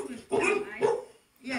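Dog barks on a farm, a few loud close bursts with a voice talking alongside.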